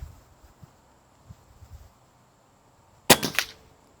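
An air rifle fires a single H&N pellet downrange at a bench rest target, giving one sharp, close crack after a few quiet seconds of faint handling noises.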